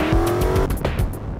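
Car recorded as an extreme vehicle sound effect, a steady engine drone with a long tire squeal in the first half, then rougher bursts of engine and skid noise, loud and close with no talk.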